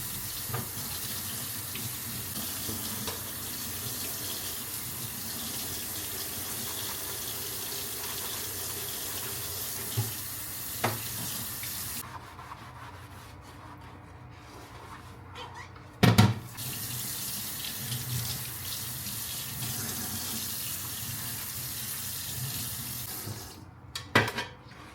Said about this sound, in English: I like to deal with the dishes as I go, so they don't pile up.